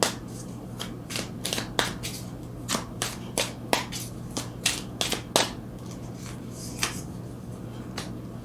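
Tarot cards being shuffled by hand, giving a run of crisp riffling snaps and flutters, fairly close, repeating irregularly over a steady low background hum with no voices.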